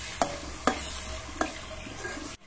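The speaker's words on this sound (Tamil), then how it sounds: "போட்டுங்க நல்லா கிளறி கொடுத்துக்கலாங்க." Egg gravy frying in a pan for an egg idli biryani breakfast, stirred with a utensil that gives three sharp scraping clacks over a faint steady sizzle, close up and quiet, with no talk.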